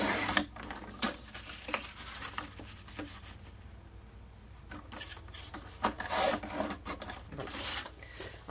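Paper being cut and scored by hand for a scrapbook box, a series of soft rasping strokes and rubbing scrapes of varying length, close and quiet with no talking.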